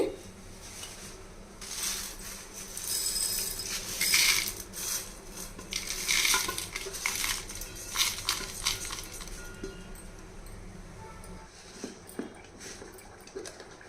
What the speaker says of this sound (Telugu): ఇప్పుడు మిక్సీ జార్లో వేసి మెత్తగా పొడి చేసుకోవాలండి